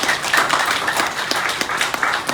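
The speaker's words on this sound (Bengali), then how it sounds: "আপনার জন্য একটা হাততালি হয়ে যায়" An audience at a leadership seminar claps steadily throughout, a dense and fairly loud patter with no pauses.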